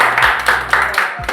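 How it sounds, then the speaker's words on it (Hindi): A small group claps to honour someone during a dead-phone repair demonstration, giving about five loud, close hand-claps in a quick uneven rhythm over a low steady hum. "एक बार पंकज सर के लिए तालियां बजा दिया"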